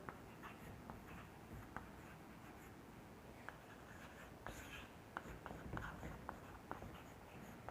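A pen writes notes on paper in short, close scratching strokes with scattered light taps, faint over a noisy room background.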